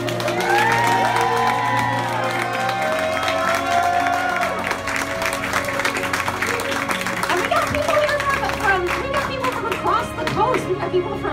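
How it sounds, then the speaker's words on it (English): A fundraiser crowd at a bar claps and cheers for the organizers, with dense sustained applause, whoops and chatter over background music, loud and close throughout. "can I get a huge round of applause for all of our organizers?"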